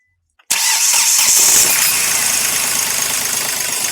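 A Hyundai Xcent's engine cranks and catches after a brief silence, then settles into a loud, rough idle with a steady vibrating rumble from a loose engine-mounted unit.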